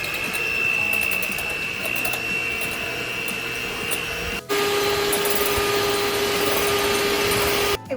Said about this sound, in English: here's the 4 egg whites. Now we're going to mix these until we have stiff peaks